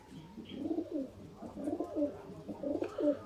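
Golden pigeons coo in a soft, repeated rhythm of low, rounded calls from close by, with a few brief higher chirps mixed in and no talking.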